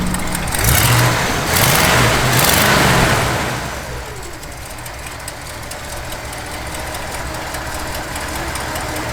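A 1963 Chevrolet Impala engine revs loudly for a few seconds, then drops to a steady, rumbling idle that continues close by.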